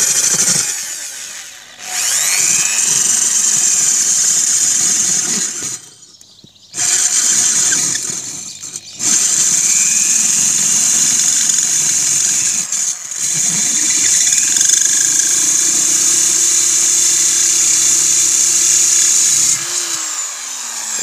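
A power drill boring a hole in a clay pot, a loud high whine running almost continuously, broken by a few short pauses and shifts in pitch as the bit grinds through, then winding down at the end.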